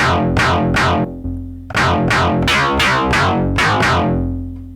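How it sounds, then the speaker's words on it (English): A distorted sine-wave synth bass on a Korg Electribe 2 plays a series of punchy plucked notes in a rhythmic bass house pattern, each note growling and decaying quickly, with no voices. "then kick in the distortion"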